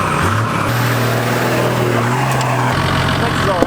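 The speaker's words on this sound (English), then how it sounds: "My car now sounds like a truck." A Toyota Landcruiser with a 1HDT engine and 3-inch straight-piped stainless exhaust idles and blips loud and close, a deep rumbling drone that steps up in pitch with a brief rev, with a voice talking over it.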